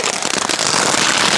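Nemo-brand firecracker bursting during a festival night, a dense continuous crackling hiss filling the whole stretch, loud and close with no pause.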